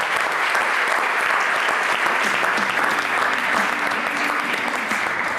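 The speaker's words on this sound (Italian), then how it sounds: "ancora un applauso" Studio audience applause on an Italian sports television program, a loud, sustained clatter of many hands clapping at once, steady throughout with no voices.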